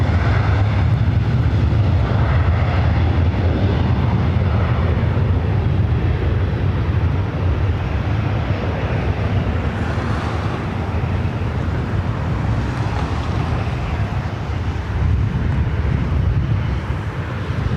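A Singapore Airlines airliner in Star Alliance livery, Flight 11 to Tokyo Narita, at LAX gives a steady, heavy jet roar that holds evenly for the whole stretch, with no voices.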